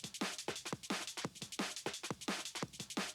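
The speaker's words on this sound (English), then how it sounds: "If you listen to just the sound of the parallel compression sounds like" A heavily compressed parallel compression bus from a drum and bass track plays a fast, busy breakbeat of punchy, squashed hits with dense cymbal wash, steady and driving throughout.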